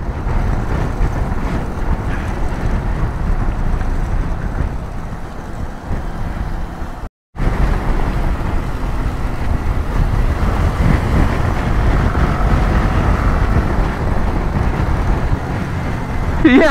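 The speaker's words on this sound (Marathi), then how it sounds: "आता कुठं आमच्या गाड्यानं थोडा स्पीड पकडलाय." A car speeds along a smooth stretch of mountain road after descending from Khardung La pass in Ladakh, giving a steady, loud rumble with wind buffeting throughout and a brief dropout near the middle.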